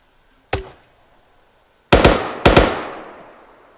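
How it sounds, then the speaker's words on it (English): Three sharp gunshots ring out during a PvP attack/defense drill with M4 rifles and LMGs, one single crack and then two close together, each with a long echoing tail across open ground. "Start laying down fire towards the town"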